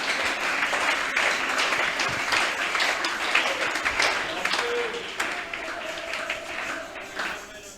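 A church congregation applauds and cheers, a steady dense wash of clapping that holds for several seconds and slowly thins toward the end, with voices mixed in.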